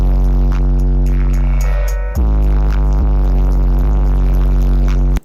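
A custom car sound system blasts music with heavy, booming subwoofer bass. The loud, sustained low tones and deep thumps play close by with no talk.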